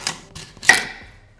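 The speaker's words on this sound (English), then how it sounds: "you just cut some pieces like this" A knife chops through raw, unpeeled pumpkin in a few sharp, close cuts against a board, three distinct knocks with quiet gaps between them.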